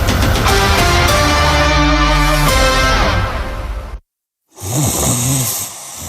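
A snoring sound effect in a mattress radio advertisement: loud, close, drawn-out rasping snores with a throaty buzzing tone, then a brief silence before another nasal snore.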